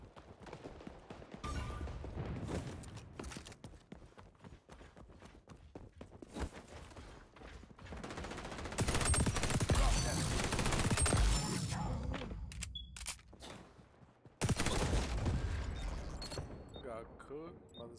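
MP7 submachine gun fire with no attachments in XDefiant: bursts of rapid shots mixed with footsteps and game effects, louder sustained firing in the middle and near the end.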